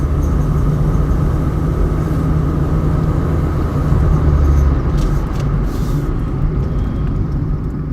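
Cabin of a painted silver 1999 Toyota Corolla on the move, filled with a constant low road rumble and engine drone, steady and fairly loud without talk.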